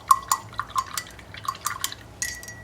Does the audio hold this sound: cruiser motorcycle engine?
no